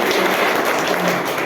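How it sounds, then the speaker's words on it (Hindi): Loud, dense applause from an audience at a motivational talk, a steady wash of many hands clapping that holds evenly from start to finish. "एक बार जोरदार तालियां चाहूंगा"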